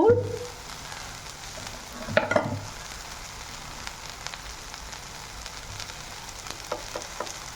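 Vegetables and paneer sauté in a pan with a soft, steady sizzle, punctuated by a few scraping stirs, close but fairly quiet.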